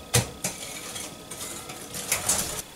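Utensil stirring sweet avocado batter in a bowl, a run of light clinking scrapes with a few sharper knocks against the side, close and fairly quiet, no talking.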